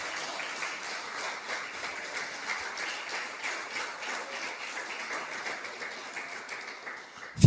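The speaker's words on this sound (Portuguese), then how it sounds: "Palmas bem alegres para Jesus." A church congregation clapping joyfully at a Portuguese-language worship service, steady rhythmic hand claps from many people carrying on at an even, moderate level throughout.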